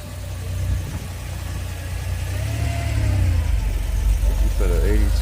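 A 1982 Porsche engine idles at a classic car meet, a steady low rumble close by with a brief rise in revs, while people talk nearby.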